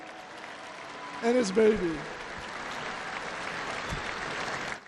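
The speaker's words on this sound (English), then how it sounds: "So let's give a round of applause for Lou" Rally crowd applauding and cheering in a large hall at a Trump rally in Harrisburg, Pennsylvania; a steady wash of clapping runs under someone speaking over a PA, with a brief louder swell early on.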